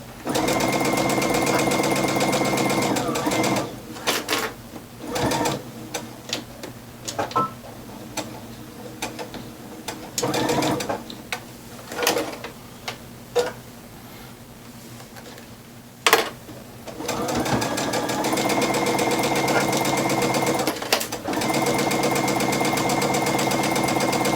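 A sewing machine stitches fabric face masks with jersey knit ties in long steady runs that break into stops, clicks and short bursts while the work is lifted and turned, then resumes its fast whirring.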